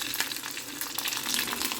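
Mustard seeds tempering in hot oil in a home kitchen, a steady close crackling sizzle with bright spitting pops throughout, no voices.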